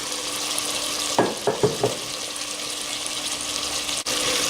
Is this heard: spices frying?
yes